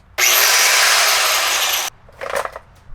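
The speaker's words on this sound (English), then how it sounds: "I'm gonna take a grinder and a metal blade and try and just grind the bolts off" An angle grinder fitted with a metal blade cuts through seat bolts in a school bus, a loud sustained screech lasting under two seconds before cutting off, followed by a few fainter scraping bursts.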